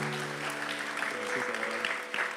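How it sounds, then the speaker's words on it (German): Applause from a church congregation at a bilingual Portuguese and Dutch prayer gathering, a steady wash of clapping lasting a couple of seconds, with faint tonal hum and a bit of voice underneath. "Een applaus."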